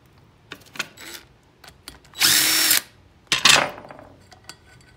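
Power tool spinning out brake bolts on an Opel GT during a brake and ball joint job, heard as a few short taps and then two loud whirring bursts near the mic, with clicks of handling between them.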